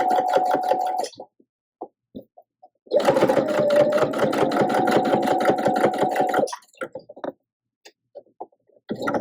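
A sewing machine stitches in rapid, even, close bursts while thread painting koi fins on fabric: a short run, scattered single stitches, then a longer steady run and a few final taps.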